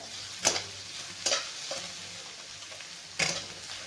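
Sliced onion sizzles softly in a pan while a spoon strikes and scrapes it at intervals, three or four distinct clacks over a quiet, steady frying hiss.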